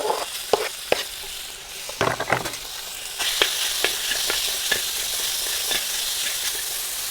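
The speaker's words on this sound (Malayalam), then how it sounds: "ഇതിലേക്ക് ചെറുതായി കട്ട് ചെയ്ത് വെച്ച ചിക്കൻ ചേർക്കേണ്ടത്" Small pieces of fresh chicken frying in oil in a pan for restaurant-style Chinese fried rice, a steady close sizzle broken by sharp scrapes and clatters of stirring, with no talking.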